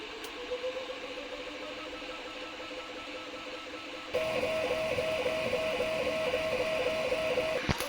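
A Creality Hi 3D printer whirs quietly, then switches to high-speed mode and runs louder, with a fast, regular pulsing motor tone, close by and with no voices.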